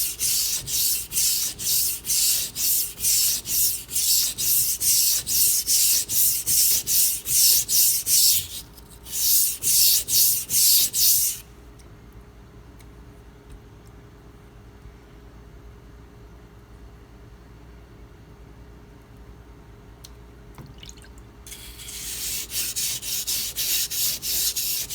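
A Spyderco Endura 4 Wharncliffe knife is sharpened on Pride Abrasives stones. Fast, even rasping strokes come close and loud, then stop for a long quiet stretch before the rhythmic scraping starts again.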